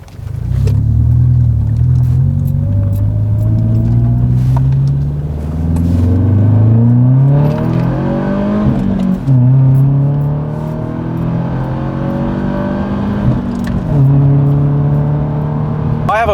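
A car engine revs and drops through gears during heel-toe downshifting, with rising and falling engine tones and blips between shifts, loud and close inside the car under a steady rumble.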